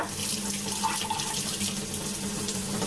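Warm water runs steadily from a tap into a container being filled to soak wheat for sprouting, a continuous close splashing stream with no talk.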